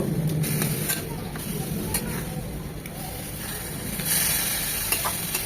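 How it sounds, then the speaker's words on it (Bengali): Taro leaves with spices and a hilsa fish head sautéing in oil, giving a continuous close sizzle with occasional stirring clicks and scrapes throughout. "মশলার সাথে কচুটাকে ভালোভাবে মিশিয়ে কষিয়ে নেব।"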